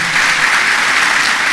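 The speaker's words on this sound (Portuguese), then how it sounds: "Dá uma salva de palmas a Jesus porque tua vida mudou." Steady, dense applause from a church congregation fills the whole moment, loud and continuous without a break.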